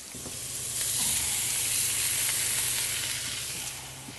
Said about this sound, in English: it's going to take a nice sear to the top of the meat